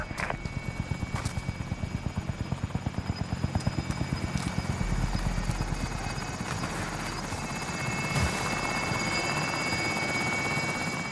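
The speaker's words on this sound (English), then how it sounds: "Friendly recons online. UAV beginning flyover." A UAV flyover in a Call of Duty battle royale match on Fortune's Keep, heard as a steady rotor-like aircraft drone with rapid regular chopping pulses, loud and continuous throughout without talk.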